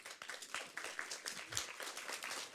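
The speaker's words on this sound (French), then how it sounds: "Je crois qu'on peut l'applaudir." Scattered applause from a conference audience, fairly quiet and a little distant, with individual claps audible in an irregular patter that keeps going steadily for a couple of seconds.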